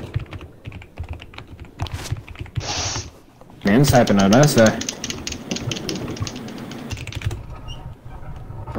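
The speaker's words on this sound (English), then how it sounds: "Whose keyboard am I hearing?" Rapid computer keyboard typing clatters over online game voice chat, the keys coming in dense bursts while several players talk and react nearby.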